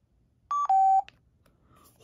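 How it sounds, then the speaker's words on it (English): A Scott GSR gas mask voice projection unit gives two short electronic beeps, the second a long steady tone at a lower pitch, clear and close, followed by quiet with a faint click. "Also makes a beep when you are running low on battery"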